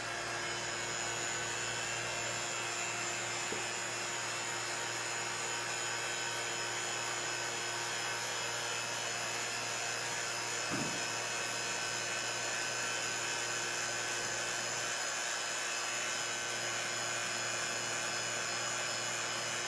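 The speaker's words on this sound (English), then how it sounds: "we're gonna cover it with the vacuum chamber and then turn it on" A vacuum chamber pump hums and whirs steadily for the whole stretch, a constant broadband mechanical drone with a couple of faint clicks.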